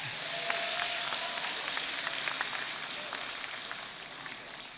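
Graduation audience applauding in a large hall, a steady dense wash of clapping that holds throughout and eases slightly toward the end, with no voices over it.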